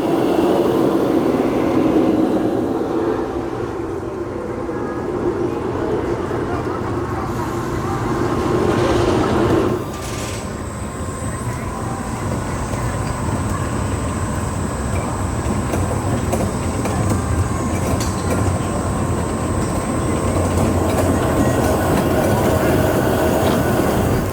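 A steady loud rumbling roar of the Ice Breaker roller coaster at SeaWorld Orlando running along its track, fairly close, with a rushing whine and continuous mechanical noise throughout.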